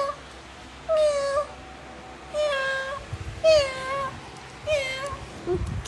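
A cat meows four times in drawn-out, rising and falling cries spaced about a second apart, close and clear over faint background noise.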